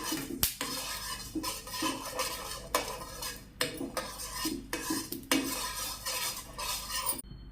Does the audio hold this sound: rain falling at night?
no